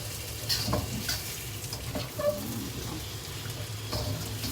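Meat frying in a pan with shallot or onion oil, a steady close sizzle and crackle throughout, with occasional stirring clinks and scrapes over the bubbling hiss.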